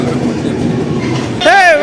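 A train rumbles steadily on a platform at Agra Cantt railway station, with a voice rising over the rail noise near the end.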